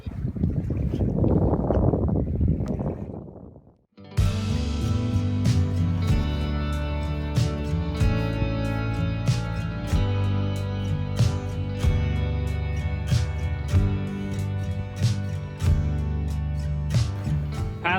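A sailboat glides slowly under sail near Anacapa Island in foggy conditions. A brief burst of wind rush is followed by steady hull and water sounds, with faint creaks and knocks from the rigging throughout.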